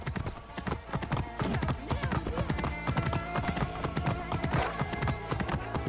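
Horse hooves clip-clopping in a steady, brisk rhythm in Assassin's Creed Origins, close and clear, mixed with an occasional snort and whinny and with voices faintly in the background.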